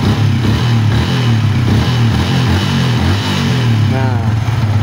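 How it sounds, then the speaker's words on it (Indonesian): A Yamaha Vixion motorcycle engine, stalling with a suspected ECU fault, is started with the starter button and then runs at a loud, close, steady idle while a person talks over it. "Tombol starter kita pencet."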